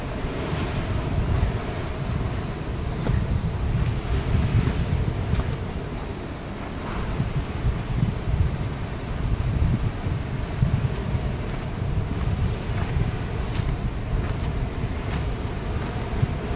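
Rough, churning sea at Harihareshwar crashes steadily against the shore while strong wind buffets the microphone, a loud continuous roar without talk.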